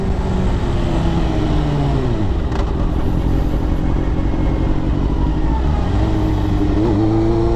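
Suzuki GSX-R 600 sport motorcycle engine droning loudly and steadily close up during a test ride, pitch sliding down and climbing again as the revs change, with no talking.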